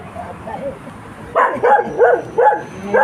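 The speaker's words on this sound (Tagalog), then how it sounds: "Ayan, aso." A dog barks four or five times in a quick, uneven series, close and loud, after a stretch of soft background noise and faint voices.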